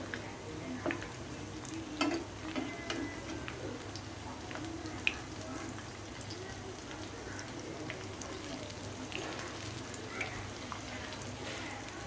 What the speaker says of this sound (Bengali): এই যে আমি পেঁয়াজ দিয়ে দিচ্ছি তেলের মধ্যে।